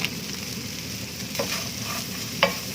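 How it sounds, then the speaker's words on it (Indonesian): Coconut milk sauce with pepper bubbles and sizzles in a hot wok, a steady close simmering hiss with a couple of faint spoon scrapes. "Ini dimasak sebentar lagi supaya santannya matang"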